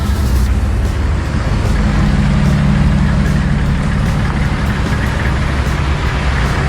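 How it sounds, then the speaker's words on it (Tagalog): Several trail motorcycles idling together nearby, a loud steady low engine drone with no talk over it. "Ito yung mga motor natin."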